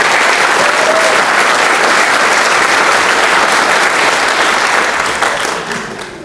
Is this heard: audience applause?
yes